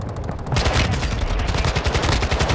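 Dense gunfire in a Warzone battle royale match, a quiet opening giving way to loud, continuous overlapping bursts of rapid automatic shots that fill the scene without letup.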